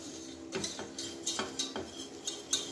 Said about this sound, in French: Je vais fouetter